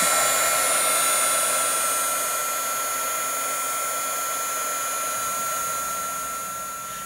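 A We R Memory Keepers heat tool heating a piece of wood blows a steady, loud hiss like a hair dryer up close, fading slightly toward the end.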